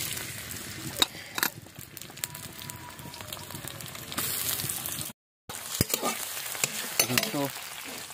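Onions frying in oil in a home kitchen for Bihari matar jhor, a soft steady sizzle with scattered stirring clatters and scrapes and one brief dropout, close and fairly quiet.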